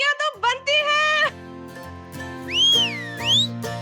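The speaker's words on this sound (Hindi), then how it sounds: "सीटियां तो बनती हैं" People whistle in celebration at a lively family gathering, with two rising, swooping whistles standing out over background chatter and music toward the end.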